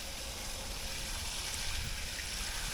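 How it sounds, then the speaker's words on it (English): Water pours from a hose or can onto freshly potted bamboo divisions, giving a steady, soft, hissing splash that stays fairly faint and continuous, with no voices. "right away I'm going to go ahead and water these in"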